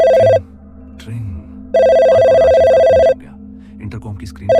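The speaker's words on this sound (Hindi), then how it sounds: "तभी अचानक राजीव की डेस्क का फोन बजा।" An office desk phone rings in a late-night cubicle, two long loud electronic bursts separated by a pause, with a third starting at the end, over a low hum and faint background sounds.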